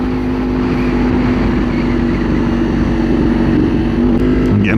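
A 2024 Kawasaki Ninja 500 motorcycle droning steadily as it rides onto a highway, a loud, constant engine and wind roar with a sharper burst of revving near the end.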